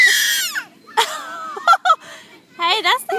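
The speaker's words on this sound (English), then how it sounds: "Don't you scream." A baby shrieks in short high-pitched bursts, close and loud, with a long squeal followed by quick broken cries and wavering squeaks, separated by brief quiet gaps.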